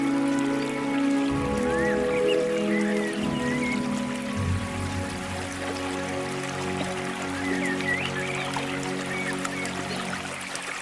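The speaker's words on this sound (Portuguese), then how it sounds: "A chuva vai encher esses lagos rasos e lhes dar uma nova oportunidade." Autumn rain patters and trickles into shallow ponds in wild Iberia, a continuous mix of drips and running water with faint low tones beneath.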